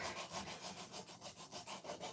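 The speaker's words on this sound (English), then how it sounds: "This one, we'll just do a little bit of sanding right here" Rhythmic back-and-forth rubbing of abrasive on a wooden pumpkin decoration, steady strokes about every quarter second, close and fairly quiet, with no talking.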